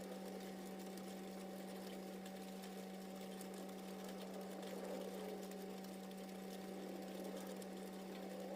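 Embroidery machine stitching thread with a steady, even mechanical hum and fast continuous whir, close and constant with no talking.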